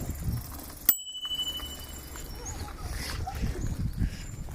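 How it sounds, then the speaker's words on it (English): A single sharp bicycle bell ding rings out once over steady outdoor rumble and faint background noise, its bright tone lingering briefly. "You can join me as I ring this bell."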